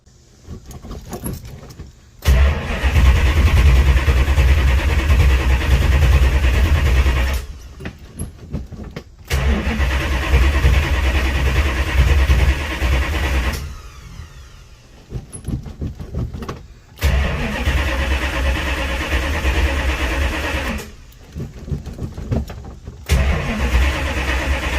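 A 1968 Dodge Charger R/T with a newly installed Holley Street Dominator intake cranks and fires several times, with loud, close engine bursts separated by short quiet gaps and no talking.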